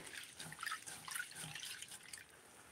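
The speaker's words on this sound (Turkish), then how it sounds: "Evet, bir daha yıkayalım. İkinci suyunu." Soup ingredients being rinsed in water, with faint dripping, trickling and gentle splashing in a sink, quiet and close with no talk.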